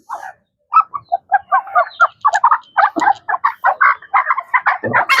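Native backyard mother hen and chickens clucking and calling in a dense, continuous run of short bursts, close and fairly loud, with no talk.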